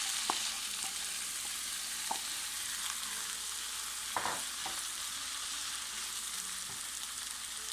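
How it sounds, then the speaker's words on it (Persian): Finely diced tomatoes fry in a pot, giving a steady, close hiss of sizzling broken by a few light clinks and stirring knocks. "حالا گوجه فرنگی ها رو که خیلی ریز به صورت نگینی های خیلی ریز خورد کردیم رو تو این مرحله به قابلمه اضافه میکنیم"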